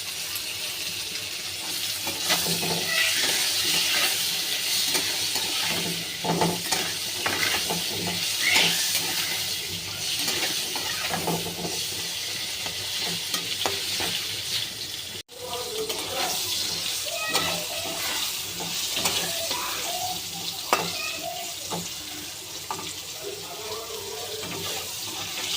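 Pointed gourd (potol) frying in oil with turmeric in a pan, a steady close sizzle with spatula stirring and scraping, softer voice faintly in the background at times.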